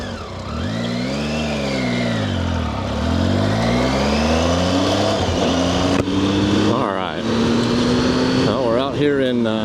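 A vehicle travels along a road near Santa Clarita, its engine rising and falling through gear changes with a loud, steady hum and whine from inside the cabin, while someone talks over it.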